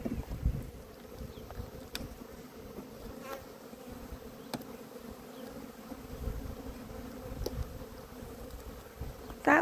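Honey bees hum and buzz steadily at an open hive on a homestead, a continuous near drone with individual bees flitting past the microphone, plus a brief louder rustle at the end.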